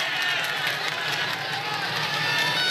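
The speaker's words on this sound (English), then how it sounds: "A marvellous crowd has turned out for this first vantage point of the 1993 event" A big roadside crowd at the 1993 Mount Evans cycling race in Colorado cheers riders as they pass, a steady wash of shouting and noise with no letup, mixed with other voices.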